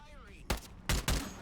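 Video game gunfire from Radius, an SKS or AKM rifle firing three sharp, loud reports in quick succession, close, with a brief pause between the first and the last two shots.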